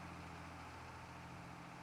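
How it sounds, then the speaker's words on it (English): A tractor engine in the Farming Simulator 25 video game, pulling a John Deere planter, hums at a steady, even idle-like drone with a low rumble, continuous and unchanging, with no talking. "Just taking some time, listening to the tractor."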